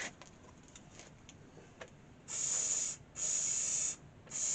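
Cleaning spray hisses onto the mechanism of a Grundig TK-series reel-to-reel tape deck in three sharp, close bursts, the first two each lasting close to a second and the last cut short, with quiet handling noise before them.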